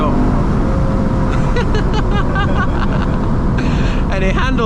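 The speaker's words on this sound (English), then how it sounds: "Lexus always sounds good though." Lexus RC F engine while driving, a steady loud cabin-heard drone under road noise, with someone talking over it throughout.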